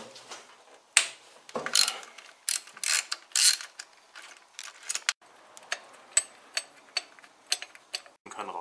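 Ratchet wrench loosening a cylinder head cover screw on a VW Passat, heard as a burst of quick clicking followed by a steady series of sharp, evenly spaced ratchet clicks, close and alone.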